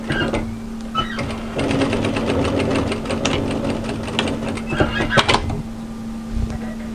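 A sewing machine back tacks along the hem edge of a hooded A-line jacket, its motor running in bursts with short stops and restarts, close by and fairly loud over a steady electrical hum.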